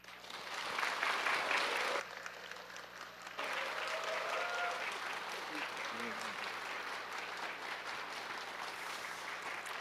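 A church congregation at a parents' prayer meeting applauds to welcome a visiting lawyer, a steady wash of clapping that starts strong, dips briefly, then continues evenly at moderate volume, with faint voices underneath.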